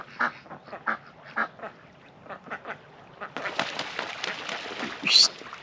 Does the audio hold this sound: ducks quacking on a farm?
yes